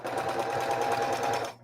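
A home sewing machine runs a straight stitch for placemat pouches, a steady close motor hum with a rapid, even needle rhythm that stops abruptly at the end.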